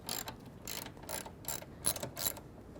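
A hand ratchet clicks in six evenly spaced short bursts while bolts come out of the B pillar on a Jeep JK, crisp and close in a quiet setting.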